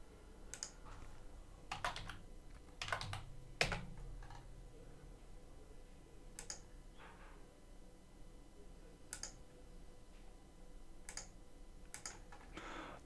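Computer keyboard keys and mouse buttons click in sparse, irregular clusters while someone drafts in ARCHLine architectural design software, crisp and close over a faint room hush, with no speech.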